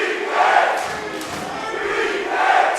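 A wrestling crowd roars and cheers for Bryan Keith before a Texas Pro Heavyweight Championship match, a loud, sustained arena din that swells and eases in waves, with shouts rising out of it.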